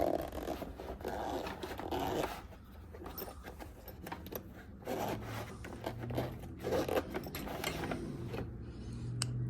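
A zipper on a zippered pick-set case in a tool box is worked open with several quick rasping pulls and rustles, close and fairly quiet, no talking.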